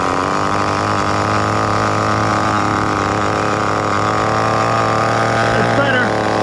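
A CEN CT5 nitro RC car engine runs at a steady, loud, high-pitched idle with an even buzzing drone throughout, close to the listener, with a faint voice partly under it.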